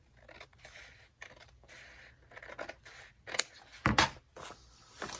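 Scissors snip through the edge of a junk journal page in a few short, crisp cuts, with a louder burst of cutting near the end, close and otherwise quiet.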